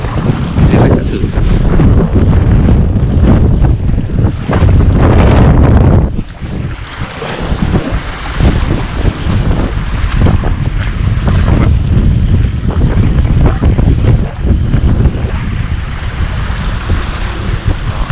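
Strong gusting wind buffets the microphone on a lakeside morning of carp fishing at a natural lake, a loud continuous roar with choppy water underneath and a brief lull partway through.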